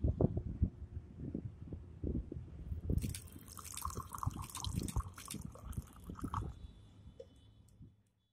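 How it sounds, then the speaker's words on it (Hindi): Water poured from above for high-speed droplet photography drips and splashes close by, with a run of soft irregular drops at first, then a denser splattering trickle from about three seconds that fades out before the end. "तो पानी को किसी डलवा ले सकते हैं आप ऊपर से पानी।"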